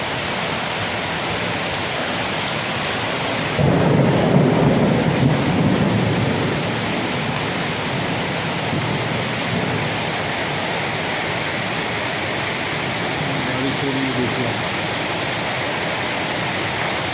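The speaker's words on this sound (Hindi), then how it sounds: "शहर हैदराबाद में पहाड़ी पे धुआंधार बारिश हो रही है।" Steady, dense roar of heavy night rain in Hyderabad with a low rumble swelling briefly near the start, like distant thunder under the downpour.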